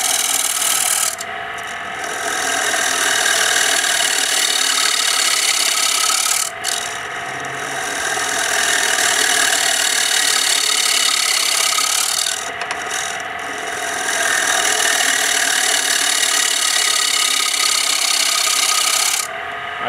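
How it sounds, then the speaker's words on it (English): A wood lathe spins a bowl blank at about 1600 RPM while a carbide tool cuts, giving a loud, continuous whirring scrape broken by a few brief pauses as the tool lifts off the wood. "And also change the speed on the lathe. I'm now spinning up at about 1600 RPM."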